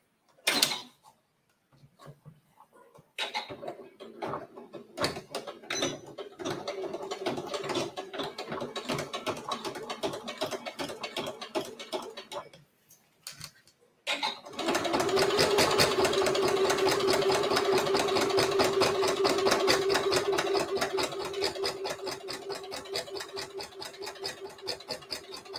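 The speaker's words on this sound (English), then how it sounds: "now we're just going to stitch from the right side and just top stitch this on." A domestic sewing machine top stitches Italian leather, first in a stuttering run of rapid mechanical clatter, then after a short pause in a louder, steadier whirring drive, close up with no talking.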